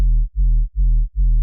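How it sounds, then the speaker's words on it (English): Deep riddim sub bass synth playing four sustained low notes in a steady pulsing rhythm, each cut by a short gap, loud and alone with no voices. "but the actual sub sounds like this."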